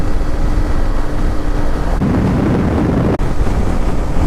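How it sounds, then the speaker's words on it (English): Steady wind buffets the microphone, making a loud, continuous rumbling roar with no voices. "It's a little windy out."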